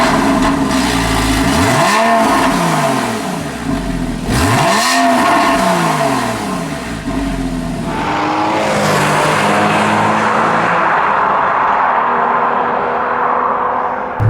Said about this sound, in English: let's go for a drive in the 2015 Porsche Boxster